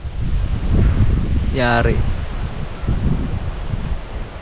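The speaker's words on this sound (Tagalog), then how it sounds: "ayun problema, lakas ng hangin" Strong wind buffets the microphone in a steady low roar on a farm plot with plastic mulch, with a brief voice and a short rising tonal call rising over it midway.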